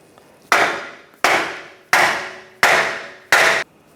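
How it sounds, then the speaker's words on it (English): Five sharp, evenly spaced hammer strikes ring out on the metal ear of a steering knuckle on a 2010-2016 Cadillac SRX, each loud impact followed by a brief decaying ring. "if you just take a hammer and give it a couple taps on that little ear right there"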